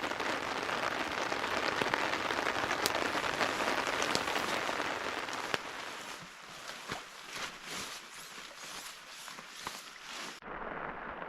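Steady rain falls on a boreal forest campsite in Saskatchewan, a dense even patter for the first half, then thinner with scattered individual drops and taps close by.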